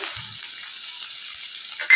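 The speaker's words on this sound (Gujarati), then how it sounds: "હિંગ નાખી ત્યારબાદ આપણે એમની અંદર લાંબુ કટિંગ કરેલી 1 ચમચી જેટલી ડુંગળી છે એ એડ કરીશું." Sliced onion goes into hot oil already seasoned with asafoetida, giving a steady, even sizzle throughout, with a soft thump near the start and a brief louder burst at the very end.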